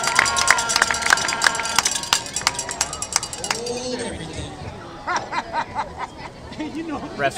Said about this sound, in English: This crowd is getting riled up.